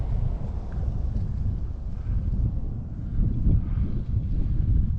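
Wind blustering across an open outdoor street in a small American town, buffeting the microphone with a constant low, rough rumble that swells and eases, close and loud with no talking.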